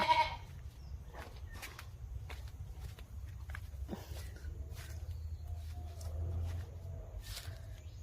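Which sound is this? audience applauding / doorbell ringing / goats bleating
goats bleating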